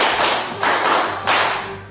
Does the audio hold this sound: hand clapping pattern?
yes